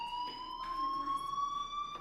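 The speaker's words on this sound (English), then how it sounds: "do you hear that fire alarm? That means you should be outside." A fire alarm rings in the video game Life is Strange, a loud, steady electronic tone with sharp harmonic overtones sounding continuously throughout.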